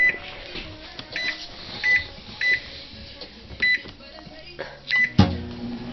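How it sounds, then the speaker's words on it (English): A microwave oven runs with a steady hum, broken by several short, bright beeps spaced through the run and a louder clunk near the end, with some faint voices in the room. "now we're gonna put it in the microwave."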